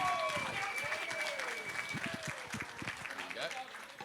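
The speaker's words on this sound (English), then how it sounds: "Big round of applause for Ethan." Warm applause from a room of people at a wedding reception speech, steady clapping with a few cheers and voices mixed in, gradually thinning toward the end.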